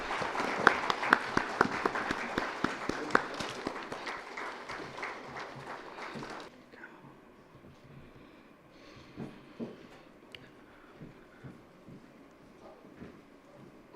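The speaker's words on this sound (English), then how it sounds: "Please give them a big round of applause." An audience at a business summit gives a round of applause as panel guests join the stage, dense clapping that fades out halfway, leaving scattered claps and room noise.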